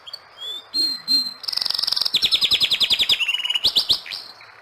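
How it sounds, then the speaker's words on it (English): A nightingale sings in a forest: bright whistled notes and a fast run of rhythmic repeated chirps, loud and close, with no talk. "He loves the nightingale song and asks it to stay and sing for him"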